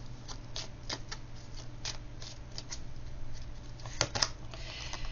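Playing cards are shuffled and drawn in quick, crisp riffles and snaps, fairly close and soft, ending with a couple of sharper flicks.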